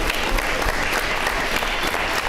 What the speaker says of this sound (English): Let's give them a round of applause before I even call them up here.